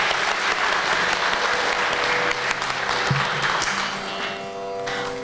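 Audience applause after a Kuchipudi dance performance of a Hindolam Tilana at a Rangapravesham debut recital, full steady clapping that thins slightly toward the end, with faint crowd murmur beneath.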